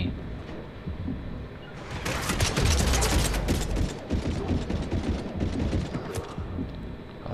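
Rapid gunfire in Mass Effect 3 rattles at the player as a dense, sustained burst of sharp cracks and clatter. It lasts several seconds before thinning out, with no clear talk over it.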